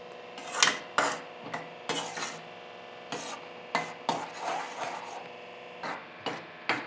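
A sweet dish with cashews, raisins and cardamom is gently stirred in a pan, making close, intermittent scraping and rubbing strokes of a spoon against the metal, separated by short pauses, with no talking.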